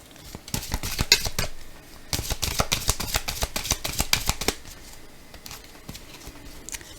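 Tarot cards being shuffled and drawn, a dense run of quick crisp flicks and slaps in two bursts, close up, then a softer stretch; no talking.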